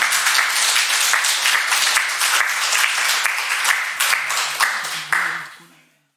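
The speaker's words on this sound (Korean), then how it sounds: "우리 전사님 나오실 때 한번 크게 박수로 환영하겠습니다" A church congregation at a Sunday service applauds to welcome a speaker, a loud, dense round of clapping with distinct close claps that carries on for about five seconds before fading out as a voice begins.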